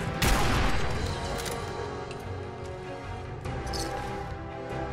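In Fallout 4, a burst of rifle gunfire opens with a sharp, loud report followed by several further shots and echoing impacts over a rumbling game background, with no one talking.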